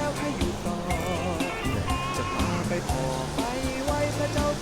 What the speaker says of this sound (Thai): มาฟังเสียงน้ำลำธารหน่อย